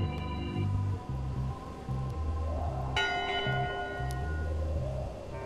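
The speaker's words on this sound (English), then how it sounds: "One bell. Voting hour." A church bell tolls once in Return to Monkey Island to mark voting hour, a bright ringing strike with a long decaying hum, heard over a looping low game music background.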